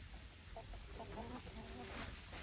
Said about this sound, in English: Here's my chickens, they're still doing good.